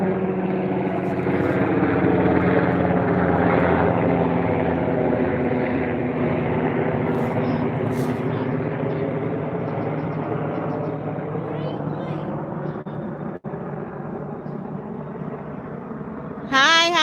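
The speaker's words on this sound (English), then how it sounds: "There's a helicopter passing over." A helicopter passes overhead, its loud rotor and engine drone rising and falling steadily over many seconds and filling the whole stretch.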